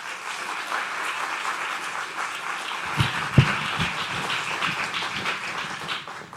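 An audience applauds speaker Céline at a 7in7 event, a steady wash of many hands clapping with a few louder close claps standing out in the middle.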